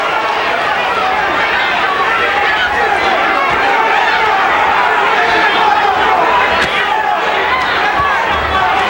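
A packed arena crowd at the 1991 Buddy McGirt vs Simon Brown WBA welterweight title boxing fight keeps up a steady, loud, roaring din throughout, with a commentator talking over it.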